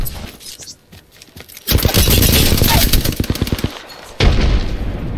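Rapid gunfire in a video game, loud and close, breaks out after a quieter opening, runs as a dense stream of shots, pauses briefly, then resumes.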